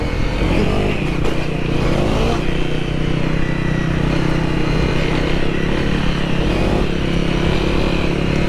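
An off-road motorcycle rides a forest trail in Wayne National Forest, its engine loud and close in a continuous drone, with throttle surges and rattling clatter along the way.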